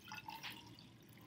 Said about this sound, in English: I'm just going to pour it all in without spilling any.